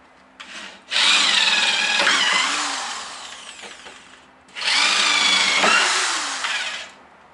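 Two loud bursts of a power drill whining as it bores into hard material with a small pilot bit, water applied to the surface, separated by a short pause, close up.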